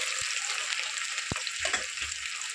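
Onion sizzles as it fries in hot oil with cumin, mustard seeds and split lentils tempering for Andhra-style gongura dal. A steady, close crackling hiss carries throughout, with a few soft pops and stirring sounds.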